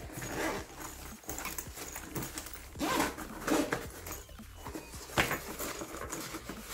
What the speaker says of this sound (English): On the inside, I'm gonna unzip this.